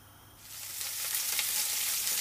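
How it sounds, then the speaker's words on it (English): Meatballs sizzling and frying in a pan, a steady hissing crackle that swells in after a quiet start and holds loud and close with no talking. "Meatballs are prepared and now they're going to be cooked"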